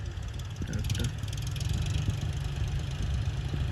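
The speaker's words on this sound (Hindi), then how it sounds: "एक नंबर घुस गया ट्रैक्टर।" A tractor engine rumbles steadily as the tractor enters a field to plough it for potato planting, a loud continuous low drone with faint voices underneath.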